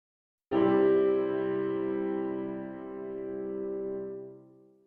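A sustained harmonic chord or tone played as a teaching example in a minor key, sounding alone, steady and full for about four seconds before fading out.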